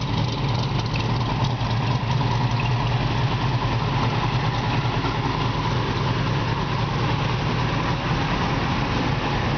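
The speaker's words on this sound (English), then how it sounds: "It's got a nice little mild cam sound to it." A 1959 Corvette with a mild cam, long tube headers and dual exhaust idles steadily nearby, a loud, continuous low rumble with a slightly lumpy pulse and no talking.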